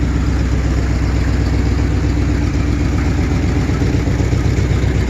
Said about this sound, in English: typical exhaust sound in case anybody wants to hear my dual exhaust.